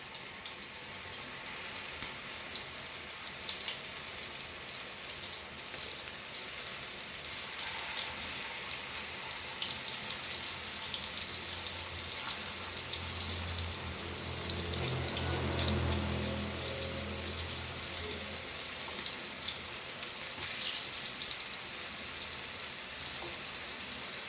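Sliced karela (bitter gourd) frying over high flame in a pan, a steady close hiss and sizzle that runs continuously for the whole stretch and swells slightly midway, with no voices over it.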